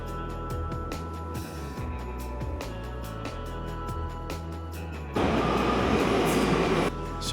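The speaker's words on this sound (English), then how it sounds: "we're on the subway, not on the tube, and it's quite busy actually" New York subway train in motion, a continuous rumbling roar with rhythmic wheel clatter over track joints, growing louder and rougher for a stretch near the end.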